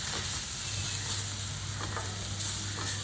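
Kitchen king masala, mutton masala, turmeric, salt and a pinch of asafoetida sauté in a pan for spicy vermicelli. A dense, steady sizzling hiss runs over a low hum, with faint stirring scrapes and no speech.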